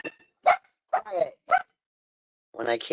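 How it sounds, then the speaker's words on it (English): Dogs bark in short, sharp bursts, a few yips spaced apart and then a longer bark at the end, fairly close with quiet gaps between. "Sorry, dogs again."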